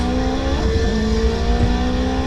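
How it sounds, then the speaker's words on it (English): A Cadillac CTS-V racing a Honda Civic on the street, with a loud, close engine roar and a rising rev under a harsh, crackling exhaust note, and no talking. "that exhaust is so crazy. You can just hear it crackling."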